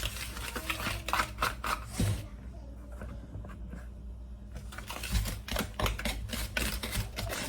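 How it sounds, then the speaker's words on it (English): Powdered buttermilk whisked with dry ingredients in a bowl: quick, close, rhythmic whisk taps and scrapes in two busy runs separated by a quieter pause. "I'm gonna whisk this powdered"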